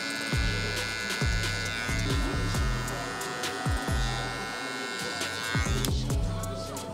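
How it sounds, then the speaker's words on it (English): Electric hair clippers trim a high taper using the blade corner with no guard and the lever open. The buzzing motor comes in repeated short strokes, close and fairly quiet. "Now I'm gonna come in with the corner of my blade, no guard, lever open."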